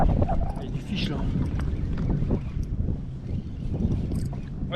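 Wind buffets the microphone on a boat out fishing for sea bass, with low rumbling gusts and water movement throughout, and someone talks intermittently over it.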